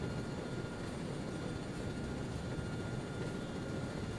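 Steady aircraft engine drone in the video game ARMA 3 SOG Prairie Fire, a constant broadband roar heard from inside the aircraft with the wheels down and earplugs in, unchanging throughout with no voices.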